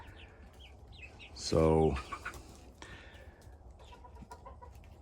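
A backyard flock of hens, brown and white, clucks and murmurs close by, with one loud burst of squawking in the middle and a brief word of speech at the start.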